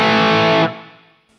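Heavily distorted electric guitar played through an overdrive pedal on a dirty setting, a loud sustained chord cut off abruptly by a noise terminator gate, leaving a faint fading tail and near silence.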